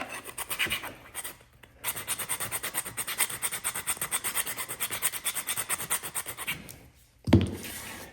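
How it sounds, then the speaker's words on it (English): A hand rasp roughens smooth, sanded wooden chair parts, giving close, steady back-and-forth rasping strokes in quick rhythmic bursts with a couple of brief pauses and a knock near the end. "I'm just going to take my rasp and rough these up as well before we get that glue going."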